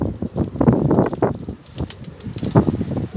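Strong wind outdoors at a pigeon loft, gusty buffeting rumble against the microphone that swells and fades in uneven bursts, close and moderately loud.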